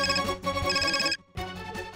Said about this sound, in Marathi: मला पुन्हा फोन होतोय त्याचा